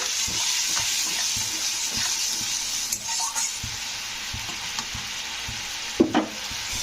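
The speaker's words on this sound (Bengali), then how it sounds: "তো আদাটাকে একটু কষে নিতে হবে।" Ginger and ground chili spices fry in oil in a pan, a steady close sizzle with light clicks of a spoon stirring and a brief clatter near the end.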